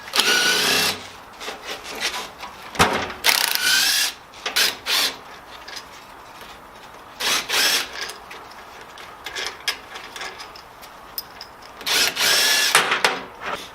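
A ratchet or power tool works loose the 13mm outer bolts on a VW VR6 Jetta during a limited-slip differential install, short whirring bursts with pauses between, close and fairly loud, with no speech.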